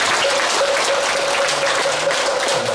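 A Buddhist temple congregation gives a monk a big round of thanks after his sermon, dense, loud, continuous clapping that fills the room evenly, with a faint steady tone beneath and no voices.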